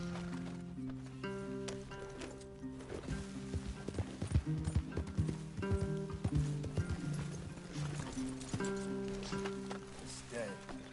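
Horses' hooves clip-clop in an uneven rhythm of sharp knocks, nearby and moderately loud, mixed with sustained tonal sounds in the background.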